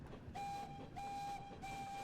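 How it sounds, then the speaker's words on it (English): An express-style passenger train runs with a continuous low rumble, while a sustained whistle-like tone sounds in three separate bursts over the steady track noise. "So it looks like we are going to get a quote-unquote express style train."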